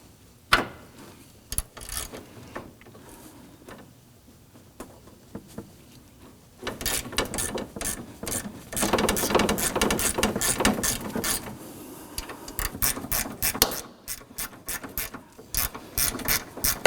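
A ratchet wrench clicks steadily while loosening a 10mm bolt on the AC line of a 2005-2009 Subaru Legacy, quiet at first, then faster, louder runs of ratcheting, with no talking.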